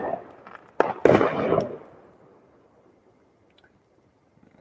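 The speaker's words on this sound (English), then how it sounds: "They're supposed to have fireworks that much apart." Neighborhood fireworks go off in a few sharp pops and bangs close together, followed by a fading crackle and then near silence with faint distant pops.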